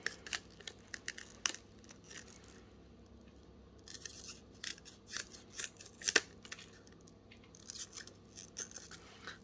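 Scissors snip and crunch through an old CD while it is cut into a star, giving a run of sharp close clicks and crackling cuts with brief pauses in between, no talk.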